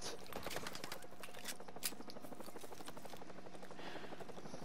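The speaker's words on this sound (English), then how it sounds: "This is where the helicopters come in and drop the guys" Helicopters arrive in the Modern Warfare Remastered campaign, a rapid, rhythmic rotor chop with a steady mechanical buzz, fairly quiet and continuous, with no talk over it.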